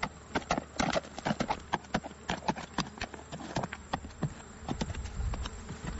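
Horses' hooves clip-clopping on ground while mustering cattle on horseback in Victoria's High Country, a steady uneven stream of close sharp hoof strikes with flies buzzing and faint outdoor ambience, no talk.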